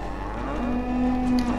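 A cow in the game Goat Simulator gives one long, loud, close moo that rises and holds steady, alone with no talk.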